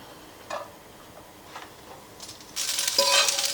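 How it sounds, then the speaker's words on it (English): Leftovers warming in a pan on a stove: faint scattered ticks and taps give way to a louder sizzling hiss in the last second, close and without talk. "So I'm going to warm it up on the stove"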